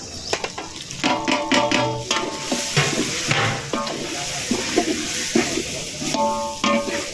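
Ground fennel spice blend and garam masala sautéing in oil for Chettinad-style wedding mutton curry: a steady sizzle broken by repeated clanking and scraping of a ladle against the pot, close and busy, with no talking.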